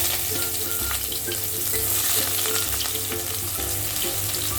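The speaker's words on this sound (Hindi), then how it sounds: "ये अच्छी तरह ब्राउन करके भून लेते हैं" A medium onion frying in hot oil in a wok for chicken noodles, a loud continuous sizzle and crackle close up with a steady rhythmic stirring pulse underneath.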